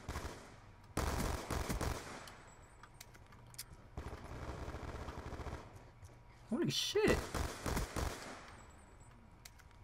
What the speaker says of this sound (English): There's so many gunshots over here.